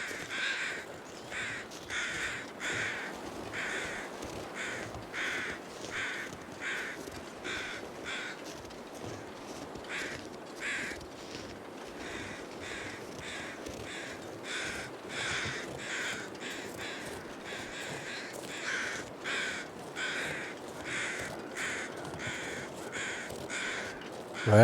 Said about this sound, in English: Where are these crows?